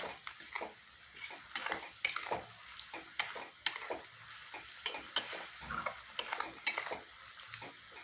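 Potato curry stirred and fried in a pan over a low gas flame, with repeated scraping strokes of a utensil, soft sizzling and clinks against the pot, close and steady without talk.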